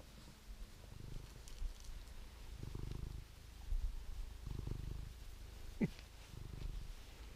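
A cat purrs up close in slow, rhythmic rumbling pulses, each breath cycle rising and falling about every second and a half, soft and low with a brief small sound near the end.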